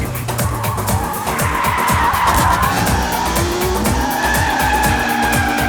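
A car skids hard and turns around, its tires squealing and its engine roaring in a loud, continuous rush that lasts about six seconds, with no voices.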